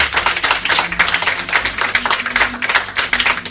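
A church congregation applauding together, steady rhythmic clapping close and fairly loud for a few seconds, with no talk over it.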